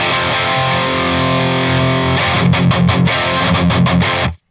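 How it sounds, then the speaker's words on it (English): An electric guitar through a Victory Kraken MKII amp, gain set around noon, rings out with a loud crunchy distorted tone: a sustained chord followed by a series of choppy, rhythmic strummed chords before a sudden cutoff. "So at noon, it's really a crunchy tone,"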